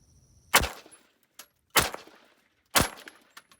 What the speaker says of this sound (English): I'm gonna put 3 rounds in this target and then we'll look and see how they impact it